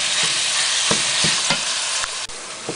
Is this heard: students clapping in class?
no